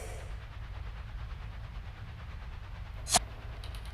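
A steady low rumble of an idling train fills a station in the video game Secret Files: Tunguska, with one brief sharp clank or hiss near the end.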